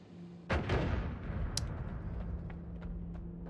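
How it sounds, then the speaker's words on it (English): A bomb explodes in the pixel-physics game Noita with a sharp, loud blast followed by a long crackling, debris-filled rumble and scattered small pops that trail off. "That's a bomb."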